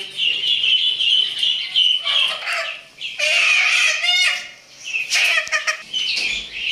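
Loud, busy bantam chicken vocalizations close by in a cage, bursts of clucking and squawking running almost continuously with brief dips between calls.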